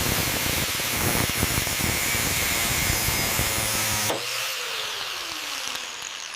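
An angle grinder levels a welded seam on the rusted steel quarter panel of a 1989 Batmobile, giving a loud, steady abrasive hiss that cuts off partway through and winds down with a falling whine.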